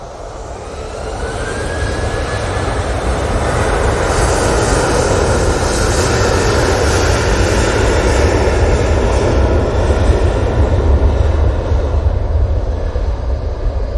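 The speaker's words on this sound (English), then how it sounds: "the aircraft thunder down the runway" Jet airliner departing Manchester Airport, engines building from a whine to a loud sustained roar as it thunders down the runway, steady and close for about fourteen seconds with a faint tonal whine early on.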